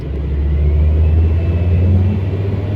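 A Volkswagen T5 van with a power loss and limp-mode fault, its engine running with a loud, steady low rumble close by and a slight rise in revs, no voices over it.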